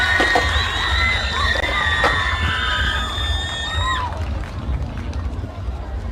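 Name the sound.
audience applause and cheering for a school marching band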